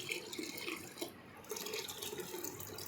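About one and a half cups of water pour into a cooking pot of black chana with tomato, a close, steady splashing trickle with a brief pause midway and no talking.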